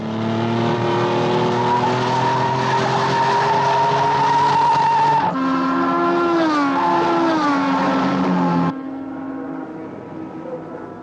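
A race car in a Thunderbirds episode speeds along at Parola Sands, a loud sustained engine whine shifting pitch as it passes, then dropping away into a fainter drone.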